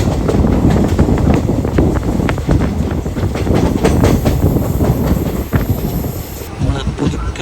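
The Guruvayur Passenger rolls fast along a Kerala line between Nellayi and Pudukkad, a loud, steady onboard rumble with dense rattling wheel and carriage clatter throughout.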